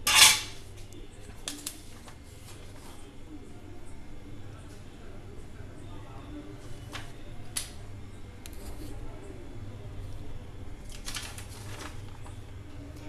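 Instant oil-free lemon pickle mixed in a bowl, with scattered clinks and scrapes of a spoon against the dish over a low steady background hum; one sharper clatter at the start, then lighter intermittent tapping.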